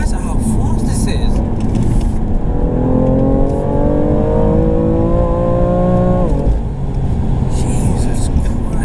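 A 2017 BMW F80 M3 Competition Package accelerating hard, the engine note climbing through the revs inside the cabin then dropping at a shift, with people talking over the rumble throughout.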